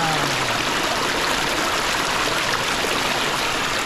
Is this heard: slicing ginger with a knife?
no